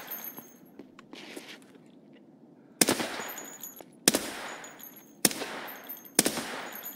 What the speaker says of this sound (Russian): Да сколько можно, ребята, хватит мне стрелять